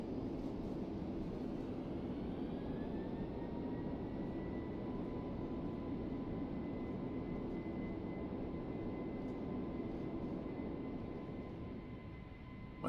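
Airliner thrust reversers roaring during a landing rollout in the Prepar3D flight simulator at KBHM, a loud steady broadband rush with a faint rising whine that holds for the whole stretch, no voices.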